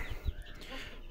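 Chickens cluck close by, with a few short, low, irregular calls over a faint background rustle.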